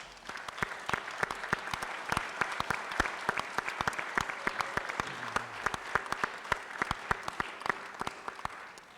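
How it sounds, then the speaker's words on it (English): An audience at a school board meeting claps in a brisk, scattered round of applause, with sharp individual claps standing out close by over a steady background of many hands. "just give these folks another round of applause"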